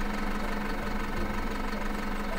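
A tractor engine idles in the Farm Manager 2018 video game, a steady low hum with a faint knock, continuous and unchanging, at moderate level with no talk.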